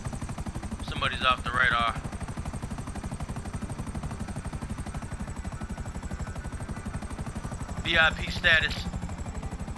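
Steady low rotor thump of a helicopter in GTA Online runs throughout, loud and continuous, with brief bursts of speech over it near the start and end.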